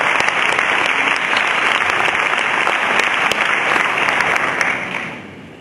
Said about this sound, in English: A big round of applause for Matt Brown.